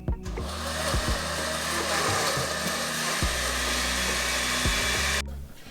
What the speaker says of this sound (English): while I go ahead and blend